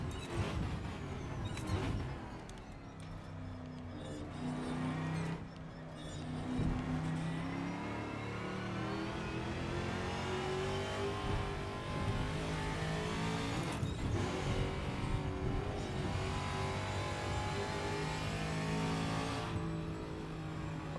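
A Camaro TA2 V8 race car in Assetto Corsa roars continuously, climbing and dropping through gears with repeated revving and brief tire squeal, loud and close with no voices.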